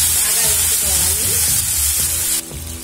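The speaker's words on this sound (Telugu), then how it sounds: "పోపు దినుసులు బాగా వేగిన తర్వాత అందులో ఒక పచ్చిమిరపకాయ సన్నగా తరుక్కొని అది ఒక 2 రెమ్మల కరివేపాకు రెండు వేసి బాగా వేసుకోవాలి." Finely chopped green chili and two sprigs of curry leaves sizzle loudly and steadily in hot oil with tempering spices for a coconut carrot curry, close up, with faint stirring mixed in.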